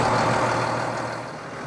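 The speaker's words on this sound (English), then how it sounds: "The Massey Ferguson 8480." A Massey Ferguson 8480 farm tractor's engine runs with a steady, heavy diesel drone that eases slightly toward the end, with no other sounds over it.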